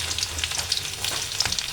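Ginger, garlic and chopped onion frying in ghee for a broccoli stir fry give a steady close sizzle with small popping crackles throughout.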